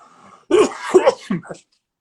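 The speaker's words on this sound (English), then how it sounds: "Pardon me, I picked up a cough." A man coughs, a short burst of throat-clearing coughs in a quiet room during an interview about menswear, close and moderately loud, then silence.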